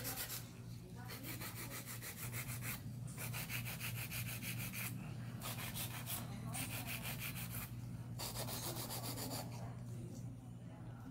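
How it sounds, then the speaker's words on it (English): A hand file works over a full set of acrylic nails in a nail salon, giving a steady run of rapid, rhythmic scratchy strokes broken by brief pauses between passes. "I have to make up for it with a little bit more hand filing."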